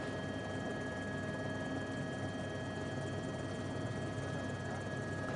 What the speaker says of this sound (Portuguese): No primeiro momento imaginamos que fosse um jato, que estava aí da Força Aérea Brasileira, mas trata-se desse outro avião.